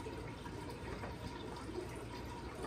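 Water being drained from an aquarium tank holding ammonia-laden water, a faint steady trickling and gurgling flow with no talk.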